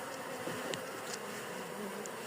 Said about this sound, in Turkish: Bak duvarda bu kadar arı var